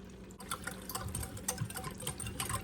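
Worcestershire sauce being poured for a beef stew, a steady liquid trickle with faint clinks, fairly close and alone.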